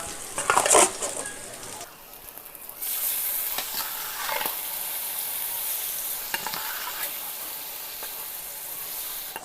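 Squid stir-fried over high heat in a hot pan, a steady sizzle with scraping stir strokes and brief louder bursts as pieces are tossed.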